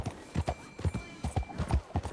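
Horse hooves clip-clop in a video game in a quick, steady trotting rhythm of close, crisp double knocks that repeats throughout.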